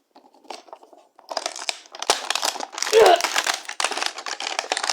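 Crinkly plastic packaging of a Beyblade toy being torn open up close, with bursts of crackling and rustling that grow busier toward the end and one sharp snap partway through.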